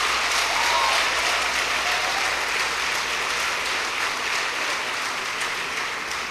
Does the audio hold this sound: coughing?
no